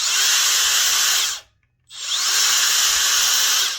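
A Makita DBS180 cordless belt sander whirs loudly and steadily, cuts out for about half a second, then starts up again and runs on at full speed.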